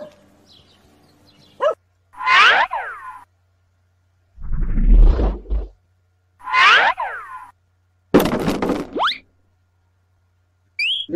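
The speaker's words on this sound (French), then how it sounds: "Le chien aboie." A dog barks in a handful of loud, separate bursts spaced a second or two apart, close and dry against silence, with one rougher, lower outburst in the middle.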